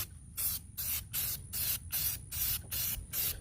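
Aerosol spray paint hissing in short, evenly spaced bursts, about seven strong sweeps close by, laying a first light coat on a rusty weight plate in a garage.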